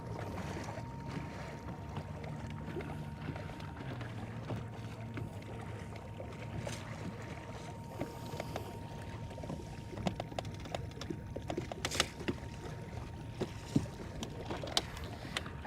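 A bass fishing boat cruises steadily across open water, its motor droning low beneath continuous wind rush and hull splashing, with scattered knocks and slaps toward the end.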